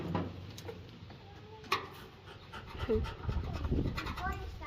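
A dog pants close by in quick, steady breaths under continuous talking in the room, with a few clicks and small knocks along the way.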